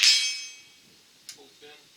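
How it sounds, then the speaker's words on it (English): A Stevens Model 87 rifle's action is switched over to bolt action, starting with a sharp metallic clang that rings away, then a softer click and a final crisp metal snap. "Pull the knob out, chamber went in, push the knob in, and now we're in bolt action."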